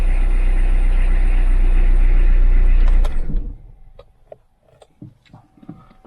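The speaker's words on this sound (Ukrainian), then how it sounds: "І автомобіль працює." A car engine runs with a loud, steady rumble for about three seconds, then cuts out, leaving quiet clicks and small handling noises.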